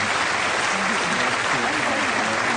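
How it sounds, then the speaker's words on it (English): A 1974 television panel game show's studio audience applauds steadily, a dense, even wash of clapping with no pauses. "Applaud them both, if you please."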